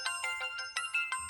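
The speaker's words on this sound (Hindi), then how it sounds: "उस्ताद फोन बजाता।" A mobile phone ringtone plays alone: a bright electronic melody of quick repeated note bursts in a steady, even rhythm.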